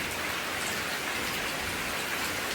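Steady, dense rain pours continuously during a monsoon downpour, a loud even hiss with no voices or other sounds.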